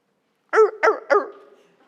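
A voice imitates a dog, giving three quick, sharp barks in a row that trail off into a short fading tail, with no other sound.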